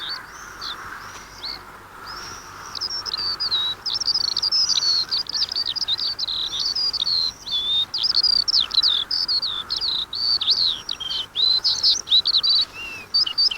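A male curlew calls at its nest in Britain, sending out a long stream of bubbling, trilling notes that are loud and close and carry on steadily with no other sounds over them.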